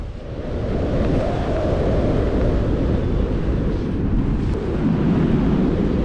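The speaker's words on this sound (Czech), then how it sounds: "Vítr se stočil a chvíli mi fouká až spoza kopce" Wind roaring past the microphone during a paragliding flight near a hilltop launch, with the wind blowing from behind: a loud, continuous, low rumbling buffet that stays steady throughout with no voices.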